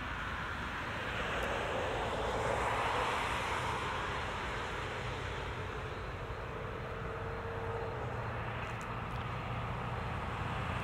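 A 2013 Acura TSX Wagon with a 2.4-liter inline-4 on the road, heard from inside the cabin: a quiet, steady blend of engine hum and road and wind noise that stays even throughout, with no voices.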